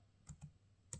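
A title is typed on a computer keyboard as three quiet, close clicks spaced unevenly within a second, with no voices.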